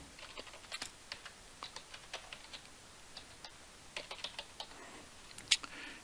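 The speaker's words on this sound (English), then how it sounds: "and we're going to type formatting." Rapid, irregular clicking of keys on a computer keyboard while typing in a word processor, with light keystrokes in uneven bursts and a few louder taps, close and fairly quiet, with no talking.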